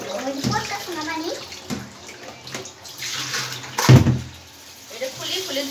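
Cow tripe is rinsed in running water, with splashing and pouring rising and falling in bursts and a louder slosh midway, up close, while someone talks over it.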